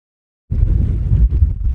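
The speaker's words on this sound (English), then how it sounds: "It's super windy this morning, which doesn't bode well for my Errigal hike." Strong wind buffets the microphone at a mountain camp in Donegal, a loud low roar starting abruptly after a short silence and gusting unevenly.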